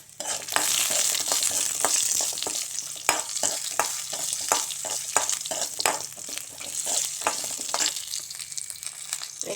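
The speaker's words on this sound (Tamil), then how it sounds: "கடலைப்பருப்பு, கொத்தமல்லி, ஜீரகம், மிளகாய் நல்லா வணங்கின பிறகு வெங்காயத்தையும் போட்டு வணக்கிடுங்க." Chana dal, coriander, cumin, chillies and onion frying in a pan for a greens chutney, a constant sizzle broken by frequent sharp scraping and clinking from a stirring spoon, close and fairly loud, with no talk.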